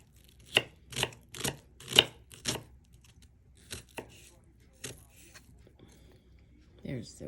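A knife chops an onion on a cutting board in a quick burst of about six crisp strikes, then slower scattered cuts follow, close and clear with quiet pauses and no voices.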